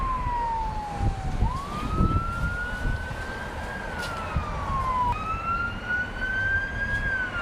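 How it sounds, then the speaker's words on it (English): A fire truck siren wails past, a loud rising and falling tone that sweeps up and down twice over steady street and traffic noise, with no talking. "oh, fire truck's coming"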